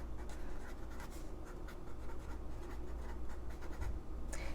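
A pen writing a word on a blank paper page, heard as continuous close scratchy strokes in short rhythmic bursts over a steady low background hum.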